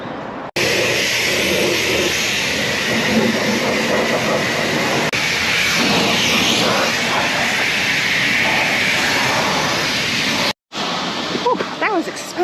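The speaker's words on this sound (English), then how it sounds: "I just sprayed the undercarriage" A coin-operated car wash sprayer blasts the undercarriage of a van in one steady, loud, broadband hiss of high-pressure water that runs almost unbroken before cutting off near the end.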